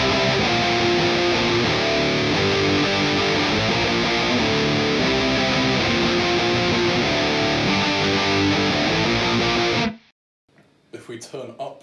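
Heavily distorted electric guitar chords through an Orange Rockerverb MKIII tube amp with reverb off ring out loud and steady for about ten seconds, then cut off abruptly, followed by a brief, quieter burst of sound.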